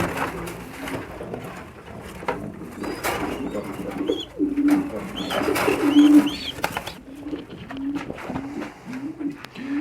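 Pigeons coo in a loft, with repeated soft, throaty near coos rising and falling throughout, mixed with flutters and handling, while someone talks over them.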